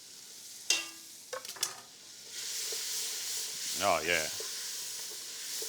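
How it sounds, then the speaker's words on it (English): Vegetables hit a hot roux for Cajun gumbo and start frying, a steady broad sizzle with a few stirring scrapes, while someone briefly speaks up over the cooking. "by adding our vegetables, it's gonna stop the cooking of our roux, and it's just gonna begin to fry our vegetables"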